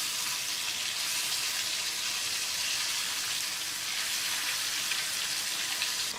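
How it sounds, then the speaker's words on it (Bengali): Hilsa fish frying in mustard oil over a low flame, a soft continuous hiss and sizzle holding steady throughout, fairly quiet and without talk. "সর্ষের তেল ছাড়া আবার ইলিশ মাছ ভাজা হয় নাকি?"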